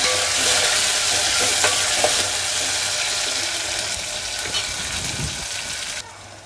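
Finely chopped tomato pieces fry in a pan with a loud, crackling sizzle while being stirred, utensil scrapes popping through before the sound drops off sharply near the end.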